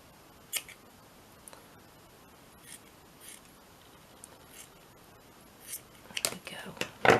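Scissors cutting scrap paper lengthwise, a few quiet, scattered snips followed by a quicker cluster of crisp cuts and paper rustle at the end.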